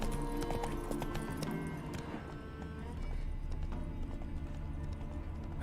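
Galloping horse hoofbeats in The Witcher 3: Wild Hunt – Blood and Wine, a rapid, rhythmic clip-clop of hooves running over a dense game soundscape with a low rumble, sustained and fairly close.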